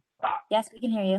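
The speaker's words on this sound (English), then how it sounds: "that's my dog in the background" A pet dog barks a few times in the background of an online health equity meeting, short yips breaking in and out while someone speaks over them.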